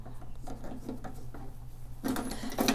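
A screw is driven in with a hand tool during setup of a Procolored A4 desktop DTF printer, giving a series of soft rhythmic rubbing turns, then louder grinding bursts near the end, over a low steady hum.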